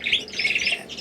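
Canaries in an indoor canary bird room give bright, high chirps and squawky calls in quick overlapping bursts, fairly close.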